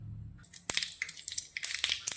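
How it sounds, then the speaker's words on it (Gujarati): Mustard seeds crackle and pop in hot oil, a burst of sharp, irregular spluttering snaps close up after a brief low hum. "રાઈ આપણી ફૂટવા લાગી છે"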